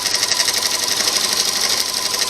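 A sewing machine stitching through quilt binding fabric, a steady fast mechanical whir and rattle running continuously at close range with no pauses or talk.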